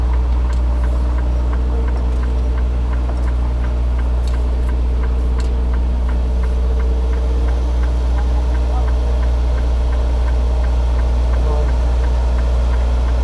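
A tractor engine idles and rumbles steadily throughout while being lined up to a trailer, a loud, continuous low drone with faint mechanical ticking on top and no break in the sound.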